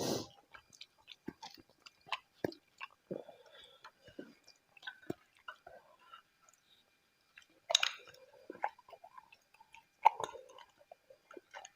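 Close, soft chewing and squishy mouth sounds from eating chicken curry with roti at a resort dinner, with scattered clicks of utensils and a few louder bursts, no talking.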